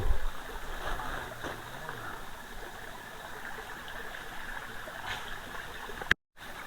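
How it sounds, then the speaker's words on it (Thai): Water flows steadily in a stream, a continuous rushing wash heard up close, briefly cut off near the end. "เสียงน้ำไหลครับ"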